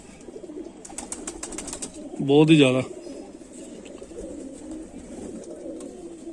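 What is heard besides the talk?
Kamagar pigeons cooing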